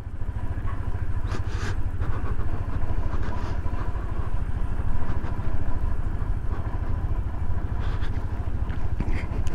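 A motorcycle without engine braking rides down a steep road toward Lumang Lipa, its engine and clattering chassis a steady, close drone that holds for the whole stretch without any talk.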